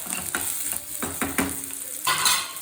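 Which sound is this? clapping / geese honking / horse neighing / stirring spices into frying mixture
stirring spices into frying mixture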